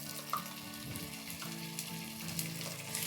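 A heaped tablespoon of ginger garlic paste frying in a pan for moong dal khichdi, a loud, dense, continuous sizzle with faint stirring underneath, close up and without voices.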